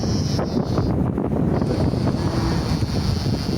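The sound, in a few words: wind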